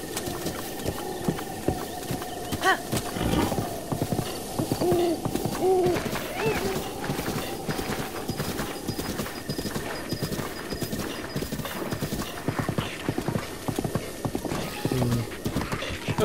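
Rhythmic clip-clop of a horse's hooves trotting steadily across open ground in Zelda: Breath of the Wild, carrying on through the whole stretch over a soft ambient music bed, with a brief hooting call partway.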